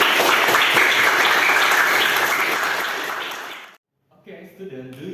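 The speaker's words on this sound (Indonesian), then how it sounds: "tepuk tangan dulu semuanya" Classroom applause from a group of students, loud and dense for several seconds before fading and stopping abruptly, followed by a teacher beginning to speak.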